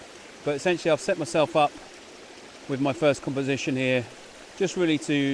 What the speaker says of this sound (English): Apologies for the noise, but obviously the more motion we get in water, the more noise that we get.